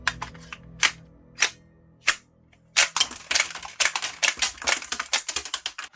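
A non-powered toy Glock 17 with shell ejection fires mushroom-tipped foam rounds. Several sharp, dry plastic snaps come first, spaced apart, then a fast burst of rattling clicks and clacks from the cycling slide and the spent shells landing.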